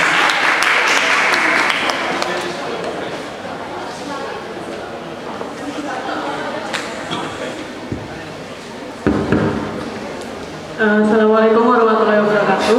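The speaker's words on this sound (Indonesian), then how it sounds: "Beri tepuk tangan untuk Aul dari teman-teman LPM." An audience claps at a 2017 student executive board presidential candidate debate, a dense burst of applause lasting about two seconds before a voice and room sounds take over.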